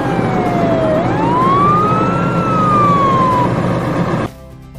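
A police car siren wails loudly nearby, the tone dipping, then sweeping up and slowly down over engine and road noise before cutting off abruptly.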